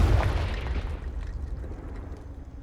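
A Confringo blasting spell in Hogwarts Legacy sets off a loud, booming explosion that hits hard at once, then rumbles and decays over a couple of seconds into a low crackling tail.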